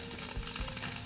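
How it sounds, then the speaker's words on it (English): Tofu sizzles in a frying pan with a dense, steady crackle and sputter, close and moderately loud, with no voices over it. "I'm gonna let the tofu sizzle away for a little bit"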